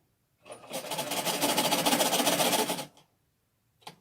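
A sewing machine stitches a cotton face mask steadily in one continuous rapid run of about two seconds, close and fairly loud, then stops. A faint tap follows.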